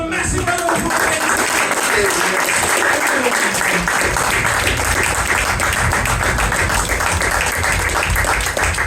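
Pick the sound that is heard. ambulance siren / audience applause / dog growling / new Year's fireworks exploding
audience applause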